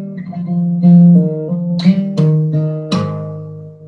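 Fingerstyle acoustic guitar in DADGAD tuning playing a short melodic phrase with a G bass note in place of a D. Clear plucked notes ring near and alone, with a few brighter strummed accents.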